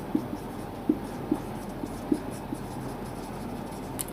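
Marker or chalk writing on a board during a mineralogy lesson, soft scratching strokes with a few sharper taps, close and steady without talk.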